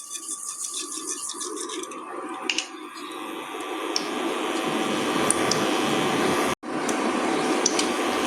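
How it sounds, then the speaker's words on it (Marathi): Mustard seeds sputter and pop in hot oil during tempering alongside asafoetida and curry leaves, a steady crackling sizzle with scattered sharper pops, close and fairly loud, briefly cut near the end. "सो सांसवां फुटलीं."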